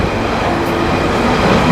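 London Underground tube train runs at speed, a loud, dense rumble and roar of wheels and carriage heard from inside the car, steady and continuous with no voices.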